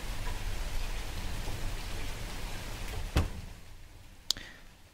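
Steady rain falls throughout, a dense even hiss of drops hitting surfaces with a low rumble beneath, broken by a couple of brief sharp clicks near the end.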